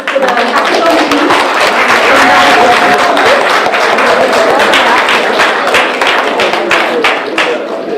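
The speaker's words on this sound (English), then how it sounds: "A big round of applause for the hackathon team." An audience applauds the hackathon team at an international conference on Tamil computing and information technology, sustained dense clapping that stays loud for the whole stretch with crowd noise and voices mixed in.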